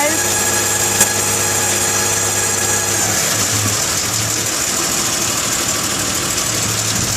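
The engine of a 2001 Isuzu Rodeo runs with a strange whining noise, a steady high-pitched whine riding over a rough idle with a faint knocking undertone, continuous and close.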